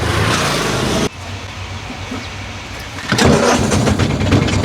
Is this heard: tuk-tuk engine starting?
yes